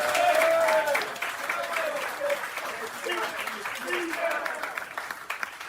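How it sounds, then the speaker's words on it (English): Audience applause for Jake at someone's birthday party in the Cloverleaf Tavern, a steady wash of clapping that fades slightly, with voices and cheers mixed into the crowd noise throughout. "So please clap it up for Jake"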